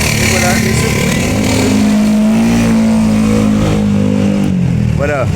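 Loud street traffic in Manila, with cars and motorcycles revving and passing close by in a continuous roar, and a brief horn-like rising tone near the end.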